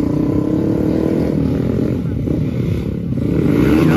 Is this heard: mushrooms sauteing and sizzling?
no